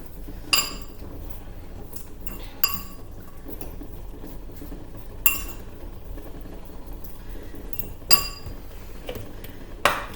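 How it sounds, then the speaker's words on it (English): A metal fork knocking and scraping against a bowl while mashing salad ingredients, with sharp clinks every second or two over quiet handling sounds. "using the fork to mash the ingredients around in the bowl"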